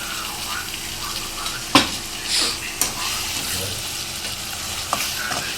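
Onions fry with a blended paste of tomato, garlic and ginger for an egg curry, giving a steady close sizzle broken by a few sharp clinks and scrapes of stirring.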